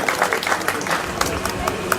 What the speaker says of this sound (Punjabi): ਮੈਂ ਚਾਹੁੰਦਾ ਕਿ ਇਸ ਉਤਮ ਲਈ ਇੱਕ ਜ਼ੋਰਦਾਰ ਤਾੜੀ ਲਾਈ ਜਾਵੇ